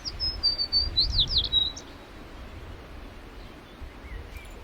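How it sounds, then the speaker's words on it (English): A tree sparrow sings during a theatre performance: a quick run of high, thin chirps in the first two seconds, fairly clear above a low rumbling background, then only the steady hiss and murmur remain. "A tree sparrow, if you please."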